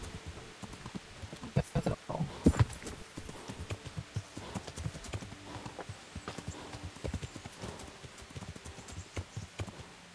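Rapid clip-clop of horse hooves trotting at a steady rhythm in the video game Kingdom Come: Deliverance, fairly faint, with a few louder hits early on.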